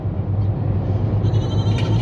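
Goat bleat sound effect played during a livestream inside a moving car, a wavering cry rising over steady road rumble near the end.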